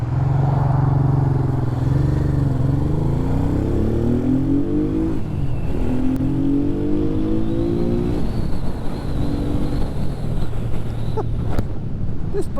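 A Honda Bros motorcycle under way, its engine climbing and falling through several rising revs as it accelerates, with heavy wind buffeting throughout.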